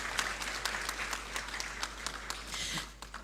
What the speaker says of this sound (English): You may give them a round of applause, ladies and gentlemen.